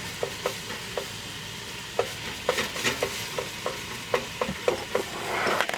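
Ground hamburger meat is smashed and browned in a pan for chili, giving a low steady sizzle broken by irregular sharp scraping and tapping knocks from the utensil, with no talking.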